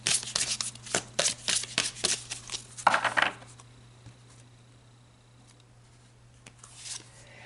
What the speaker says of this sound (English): let's pull an angel power card